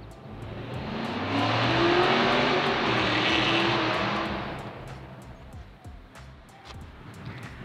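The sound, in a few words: cars driving up and down street at night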